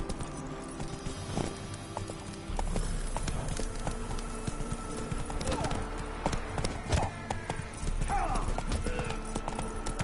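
Horse hooves clip-clopping in a video game, a steady rhythmic trot of a mount named Roach, close and clear, with game ambience and a voice speaking over it.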